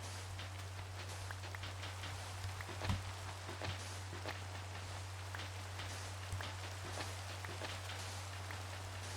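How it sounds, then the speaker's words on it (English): Steady rain falls in a Minecraft world, a constant soft hiss with scattered patter and a low steady hum beneath, faint throughout with no voices. "I think it's raining."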